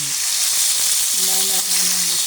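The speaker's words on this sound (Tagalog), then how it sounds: "Isda, mga pritong isda, yan. Pritong isda." Fish frying in a pan of hot oil at home in the morning, a constant close sizzle and crackle throughout, with a brief tonal hum or beep in the background.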